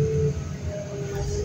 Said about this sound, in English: I know we got some train action in the background.